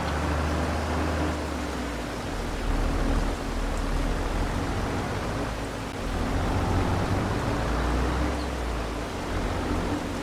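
Steady rain falls in the farming game Farming Simulator 22, a continuous broadband hiss with a low rumble underneath that holds constant and fairly loud throughout, with no talking.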